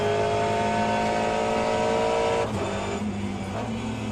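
LMP prototype race cars in the Le Mans Ultimate racing game roar past with steady, loud engine drone and high harmonic whine, easing slightly after a few seconds as the pack moves on.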